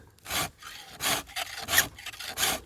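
A hand file rasps across worn handsaw teeth in four slow, even strokes, each a close, scratchy metallic rub separated by brief pauses.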